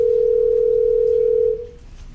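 A steady telephone dial tone sounds from a phone app call placed during a developer meetup demo, clear and unbroken for about a second and a half before cutting off into quiet room noise.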